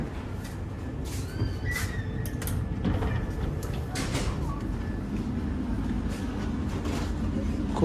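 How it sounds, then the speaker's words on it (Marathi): Automatic doors on a Vande Bharat train slide open with a brief mechanical whir and faint tonal hum, set against steady carriage rumble and background voices. "डोअर आहेत ना ते ऑटोमॅटिक उघडतात"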